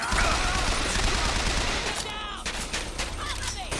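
Dense bursts of rapid gunfire in the video game Bioshock Infinite, loud and continuous at first and then thinning into scattered shots, with game voices mixed in.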